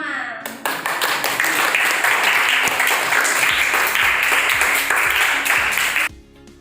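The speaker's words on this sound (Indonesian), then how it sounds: "Tepuk tangan untuk kita semua." Classroom applause from a fifth-grade class of children and their teacher, a dense burst of many hands clapping that starts abruptly, holds steady and loud for several seconds, then cuts off.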